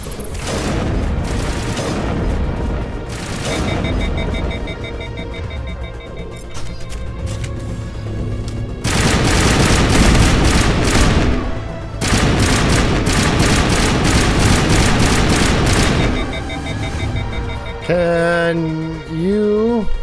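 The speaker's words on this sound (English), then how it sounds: "Let's try the sniper rifle." Loud sniper rifle fire in Mass Effect: sharp cracks and heavy booming bursts come in irregular clusters among other gunfire and mechanical clatter. A short tonal electronic sweep sounds near the end.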